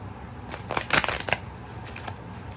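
A deck of cards is riffled and shuffled up close, a burst of rapid fluttering clicks followed by softer handling noises.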